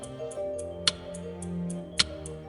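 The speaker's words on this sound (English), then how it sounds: "Out of nowhere, I started hearing this ticking sound." Steady mechanical ticking like a bomb timer, a regular tick about every quarter second with two louder clicks, close and alone over a low background hum.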